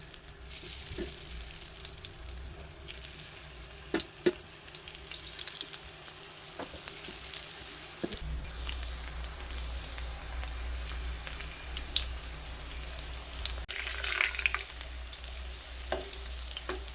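Plantain slices coated with rice flour roast in oil on a heavy tawa over a low flame, giving a quiet, steady sizzle with scattered light crackles and a few soft scraping clicks, close and with no talking.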